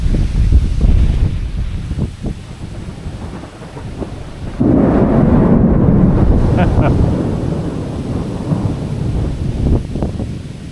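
Strong wind gusts roar and buffet the microphone during a West Virginia thunderstorm, with flags whipping nearby. The noise swells into a louder, rumbling surge midway and stays heavy to the end.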